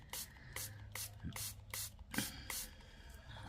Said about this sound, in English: I'm just using my spray bottle because this is what I have handy.